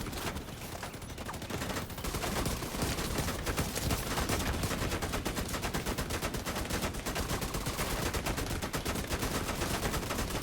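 Sustained loud gunfire aimed at turrets in the Division 2, a dense continuous stream of rapid shots running nearly unbroken from start to finish with no talking.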